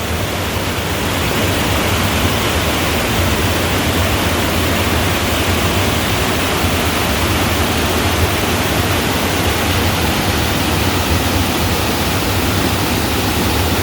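Water pours over a dam on Neshaminy Creek in Northampton Township, making a constant, even, broadband roar that stays loud and unchanging with no voices.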